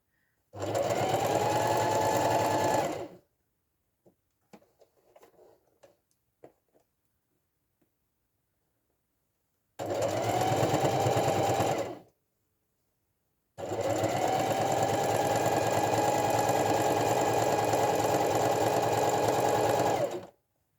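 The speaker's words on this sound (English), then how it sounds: "This is a very excitable machine." A sewing machine stitches a handle onto a fabric market bag in three loud, fast, whirring bursts. The first two are short and the last is long, with near silence and a few faint clicks between them.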